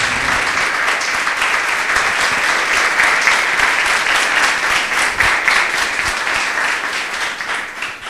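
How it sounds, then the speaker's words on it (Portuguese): Steady, dense clapping from a church congregation praising God, filling the space evenly for several seconds and fading slightly at the end. "Louve ao Senhor com suas palmas."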